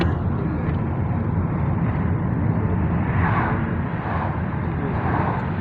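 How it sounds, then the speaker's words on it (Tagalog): An airplane near Mount Fuji gives a steady broadband engine roar for several seconds, loud and fairly close, with no voices heard. "Aeroplano dito."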